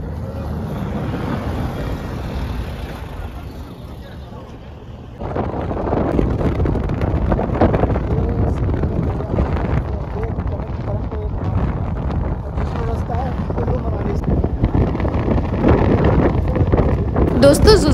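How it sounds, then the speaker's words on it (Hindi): Strong wind at Zojila Pass in the mountains, buffeting the microphone with a heavy, continuous rumbling roar that grows louder after a brief lull, while people speak under it. "जोजीला पॉइंट में ना बहुत तेज हवा चल रही थी और बहुत मुश्किल हो गया था बात भी करना"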